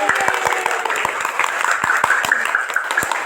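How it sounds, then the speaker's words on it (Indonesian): A classroom of pupils claps together at the end of a lesson, a dense patter of quick hand claps mixed with some voices in the room. "Tepuk tangan untuk kita semua."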